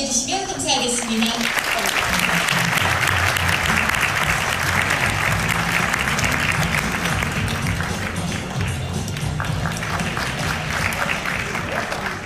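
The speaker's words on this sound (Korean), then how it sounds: "여러분 뜨거운 박수 한번으로 맞이해주시면 감사하겠습니다" A conference crowd at KCPAC 2019 applauds loudly and continuously as a retired admiral walks to the stage, a sustained wash of clapping with voices and background sound mixed in throughout.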